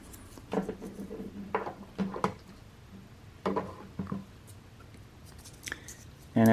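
A Cutra Wondercutter S ultrasonic cutter slices through 3D-printed plastic with short, crisp crackling bursts separated by pauses, moderately close, ending in a louder thump.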